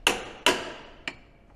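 Gentle hammer taps land on the transfer box of a Toyota Land Cruiser, two sharp metallic strikes and then a softer third, each ringing briefly, close and alone.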